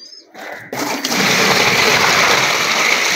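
Water gushes steadily out of a tipped tub holding molly fish, a loud continuous splashing pour that starts after a brief quiet moment and then holds at full strength.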